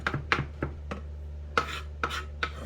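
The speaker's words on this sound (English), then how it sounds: "So with the garlic, we'll just chop it like the ginger." A knife chops garlic on a cutting board in a few sharp, irregular taps, close and fairly quiet, with no voices.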